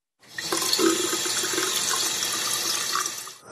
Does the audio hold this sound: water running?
yes